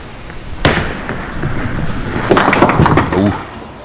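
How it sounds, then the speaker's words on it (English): A five-pin bowling ball crashing into the pins in a televised match, a sharp clatter followed by a second burst of scattering pins, with a commentator talking over it. "Left hand pocket, exactly where she wants to throw the ball, and she gets ripped on a left corner pin."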